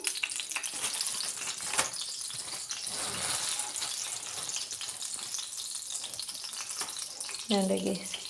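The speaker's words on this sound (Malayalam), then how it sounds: "ഇതിലേക്ക് നമുക്ക് നെയ്യ് ചൂടായി മെൽറ്റായി വരുമ്പോൾ നമുക്കിതിലേക്ക് അണ്ടിപ്പരിപ്പ് മുന്തിരി ആവശ്യത്തിന് ഇട്ട് കൊടുക്കാം" Cashews and raisins fry in hot melted ghee with a steady sizzling crackle throughout, broken by brief stirring clatters and a short metallic scrape near the end.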